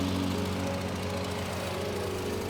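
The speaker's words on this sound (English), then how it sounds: "Hear by the sound when it gets the carburetor filled up." An old engine runs steadily as its carburetor fills up, a loud, continuous chugging drone with a fast knocking rhythm that holds even throughout, close by and with no voices.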